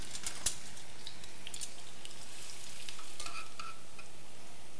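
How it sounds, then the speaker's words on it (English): Shallots frying in hot oil for a fish dish, a faint steady sizzle with a couple of light clicks and no talking. "Heat it up. You add the shallots."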